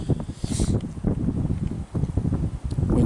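Gusty autumn wind outdoors on a canoe trip in the woods, a steady rushing buffet across the microphone with rustling, moderately loud and continuous, with no talking.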